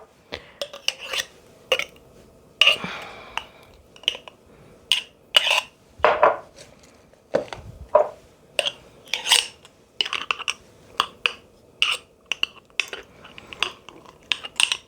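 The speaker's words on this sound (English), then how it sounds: "Squish it down as far as I can, fill all the gaps. With my cooking shortening." Cooking shortening is packed and squished into a clay pot with a utensil, giving a run of sharp scraping and clinking strokes in an uneven rhythm, close and fairly loud, with no talking.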